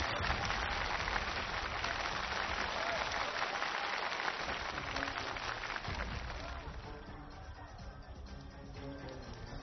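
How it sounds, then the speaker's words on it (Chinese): A studio audience at a televised choir competition final applauds in a long, loud burst that slowly fades, with voices mixed in. "掌声有请倪萍老师、赵忠祥老师。"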